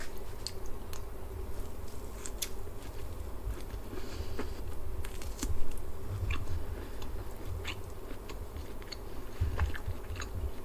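Someone chewing and biting into a meal of flanken-cut ribs up close, with irregular crunchy, moist mouth sounds and quiet breaths, no talking.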